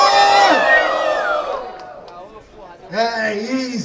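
A crowd at a Brazilian rap battle in Rocinha cheers and whoops with rising shouts. The cheering comes in loud, overlapping bursts, with excited voices calling out.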